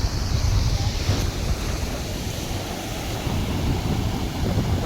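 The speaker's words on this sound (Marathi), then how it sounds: "सुंदर असा निळा शुभ्र असा समुद्र आपला वेंगुर्ला सागरेश्वरचा" Sea waves wash steadily onto the beach at Sagareshwar, Vengurla, a continuous near roar of surf with wind buffeting the microphone.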